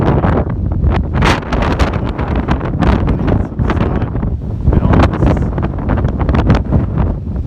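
Strong mountain wind in New Hampshire buffets the microphone in loud, continuous gusts, with a roaring rumble throughout and no talking.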